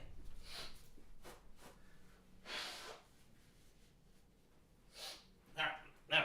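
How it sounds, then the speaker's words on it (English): A person blows their nose in three or four sharp, breathy bursts separated by pauses, close to the listener and moderately loud, with no talking. "I want to blow my nose real quick"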